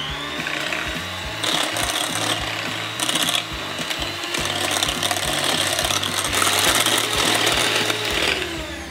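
A handheld electric mixer runs on high speed whipping cream for a mango float, a steady loud motorized whir with a shifting pitch, continuous throughout with no talking.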